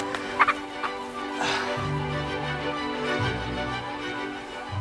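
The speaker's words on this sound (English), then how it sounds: "When chickens run, they flap their wings for balance, for traction," Chickens, treated as living relatives of dinosaurs, running and flapping their wings, heard as bursts of wingbeats and scrabbling, with low turkey-like gobbling and fowl calls throughout at moderate distance.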